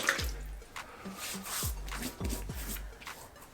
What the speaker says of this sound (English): put some water on my face.